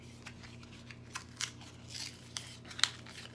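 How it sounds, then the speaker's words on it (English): Cosmetics packaging for a blush torn open by hand, heard as a few short, close crinkles and rips scattered across a quiet room hum, ending in a sharper tear, with no talking. "I'm just tearing this up."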